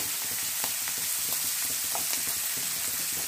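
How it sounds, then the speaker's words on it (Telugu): Onions frying in a pan for a quick egg fry, a steady close sizzle with occasional crackles and pops, no talking. "బాగా ఫ్రై చేయాలా ఆనియన్స్?"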